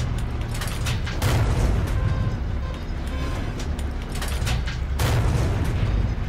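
Panzer IV H tank cannon in World of Tanks fires in heavy booming blasts, two strong shots standing out over a constant low engine and track rumble during a game battle.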